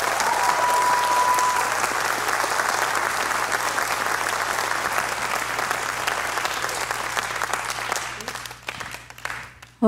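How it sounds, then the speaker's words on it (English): Sustained audience applause at a spring piano recital, dense and steady for about eight seconds before thinning out and fading near the end. "Let's have a big round of applause for them."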